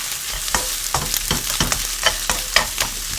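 Fish cake being stir-fried in a pan, with a steady rhythm of spatula scrapes and stirring strokes over a continuous close sizzle and no voices.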